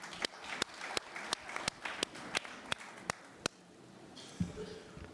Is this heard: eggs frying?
no